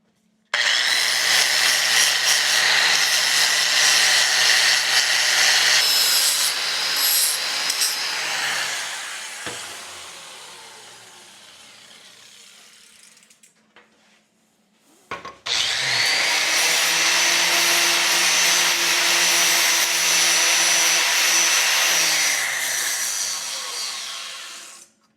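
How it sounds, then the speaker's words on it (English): A new belt sander grinds and machines a steering part for a Volkswagen Beetle, running loud with a high abrasive whine, easing off midway, briefly stopping, then starting again at full pitch. "I bought a new belt sander for just this occasion."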